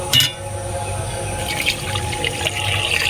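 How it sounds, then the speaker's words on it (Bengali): Water pours into a pot of whisked lentils, a close, steady splashing and gurgling stream that runs on without a break after a brief knock at the start, with no voices. "এখন আমি জল দিয়ে দেবো"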